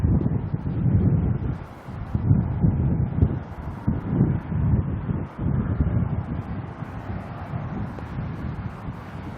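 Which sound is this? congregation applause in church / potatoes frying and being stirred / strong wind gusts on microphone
strong wind gusts on microphone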